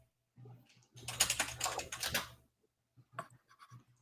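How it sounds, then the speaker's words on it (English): A loud mechanical keyboard clatters in a quick burst of close key presses for about a second, followed by a few isolated clicks amid quiet. "I have a mechanical keyboard, and this thing is so loud."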